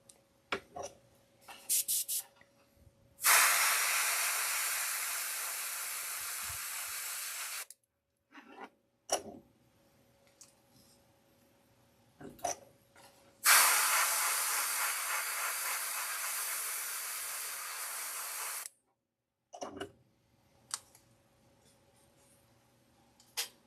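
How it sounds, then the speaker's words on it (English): Spray paint hisses through a stencil onto a jerkbait fishing lure in two long, steady bursts of several seconds each, separated by short pauses filled with faint clicks and handling noises. "I'll spray up in here, and then I'm going to move my hands down, and we'll spray down there to help hold the stencil tight in place"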